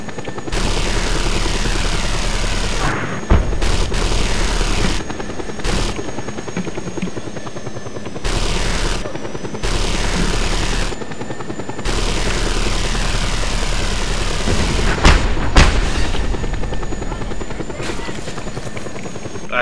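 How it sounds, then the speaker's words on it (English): Helicopter in the video game Just Cause 2, a loud, continuous rotor drone repeatedly chopped by brief gaps, with bursts of gunfire and a voice talking over it. "Okay, there's our helicopter."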